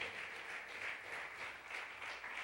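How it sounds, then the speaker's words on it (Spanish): A church congregation claps for the Lord during a Sunday service, a soft, steady wash of many hands clapping together, distant and even in level for a few seconds. "Le da palmas al Señor si lo desea"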